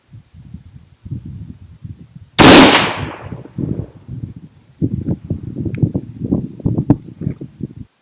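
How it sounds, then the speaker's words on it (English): A single .25 GPC rifle shot, fired prone at long range at a bobcat during a West Texas hunt: one sharp, loud crack with a decaying tail, set among shuffling and rustling movement before and after. "I jumped out of the bed of the side-by-side and shot prone, knowing this is going to be a long-distance shot on a bobcat."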